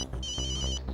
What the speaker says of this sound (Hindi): तारक, आपका फोन बज रहा है।